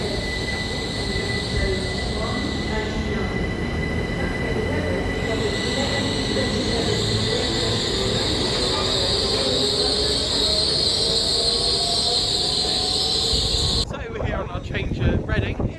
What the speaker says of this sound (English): Here's our train to London Paddington. It is a Great Western IET